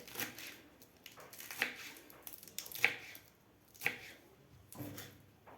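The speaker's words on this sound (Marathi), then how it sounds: "अशा प्रकारे आपल्याला भाजी कापून घ्यायची आहे" A knife chops safflower (kardai) leaves on a board, giving about five soft, spaced chopping strokes at a slow, uneven rhythm, close up and fairly quiet.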